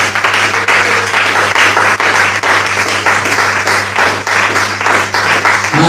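A church congregation applauding during a sermon, dense loud clapping that continues steadily throughout with a low hum underneath.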